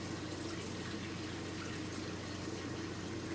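Tap water runs in a steady, continuous stream while hands are washed with soap, a close, even rush with no talk over it.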